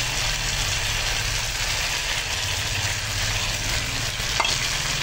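Pointed gourd and prawns stir-fry in a pan with a cashew and melon-seed paste, giving a loud, steady sizzle that runs unbroken with only a faint scrape near the end.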